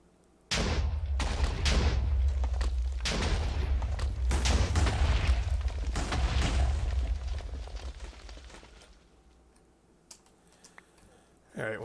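A rapid run of loud booming explosions in a Minecraft modpack game rumbles continuously for several seconds, then fades to quiet, with a last burst at the end.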